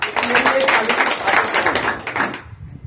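Audience applause in a lecture hall, a dense steady patter of many hands clapping at moderate loudness for nearly three seconds before cutting off abruptly.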